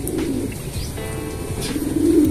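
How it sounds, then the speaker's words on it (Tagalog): Soft pigeon cooing rises and falls for a couple of seconds among show birds, fairly close and steady, with no voices. "Ang laki. Ang laking ibon."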